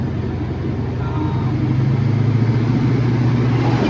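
A restored 1969 Chevy C10 truck drives along with a steady, smooth engine drone heard from close by, its low hum swelling slightly louder toward the end.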